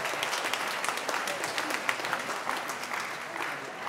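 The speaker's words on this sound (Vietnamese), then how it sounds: "Chúng ta làm tràng pháo tay cảm ơn" A church congregation at a Vietnamese Nativity Mass at St. John the Baptist, Costa Mesa, applauds in dense, steady clapping that fills the room throughout, with a faint murmur of voices underneath.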